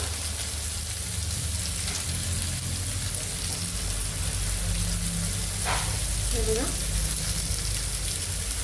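Fresh Bombay duck fish shallow-frying in oil, a loud, continuous crackling sizzle close by with a couple of brief scraping or bubbling accents midway.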